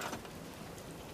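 Steady rain in the video game Fallout 4, an even hiss of falling drops continuing throughout with no other distinct sounds.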